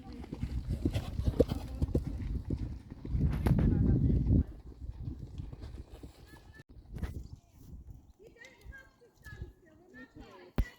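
Pony club horse cantering on both reins during a show jumping lesson, rhythmic clip-clop hoofbeats on the ground, loud and close at first then fading, with voices talking and a neigh-like call in the background.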